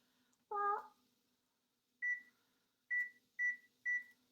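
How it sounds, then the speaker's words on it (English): A kitchen timer beeps in a kitchen where pupusas are being made, one longer electronic tone followed by four short, evenly spaced beeps, moderately quiet over a faint hum. "oh, there's the timer"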